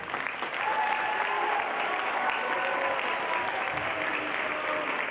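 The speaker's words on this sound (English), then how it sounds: "go ahead, you can clap for him" School winter concert audience applauds from a large hall, a dense, steady wash of clapping that continues without pause for several seconds.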